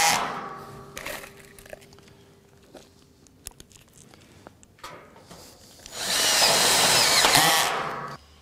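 A power drill drives self-drilling screws through a steel deck joist: a few short clicks and a brief whir, then near the end a loud, sustained high-pitched grinding run of about two seconds.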